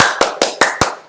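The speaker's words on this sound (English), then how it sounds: "Slow clap." Five slow, evenly spaced hand claps, one roughly every fifth of a second, sharp and close with short decays and no voices.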